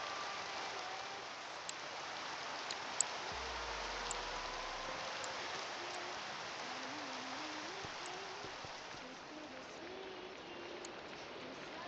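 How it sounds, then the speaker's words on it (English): Rain falls in a modded video game world as a constant, soft hiss with faint scattered drop ticks, steady throughout and without thunder. "When does the rain end?"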